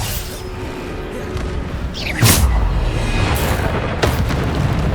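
A Bombarda blasting spell goes off in the Hogwarts Legacy game with a loud, deep boom, followed a couple of seconds later by a second, smaller burst, all over a constant roar of rumbling noise.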